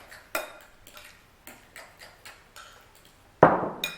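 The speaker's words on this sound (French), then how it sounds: "Et on mélange." A utensil clinks and scrapes against a bowl while ricotta pastry dough is stirred, giving a series of light, irregular taps and a sharper knock near the end, close and clear with no talk.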